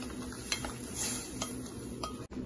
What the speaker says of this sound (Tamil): சேர்த்துட்டு நல்லா கலந்து விட்டுறணும்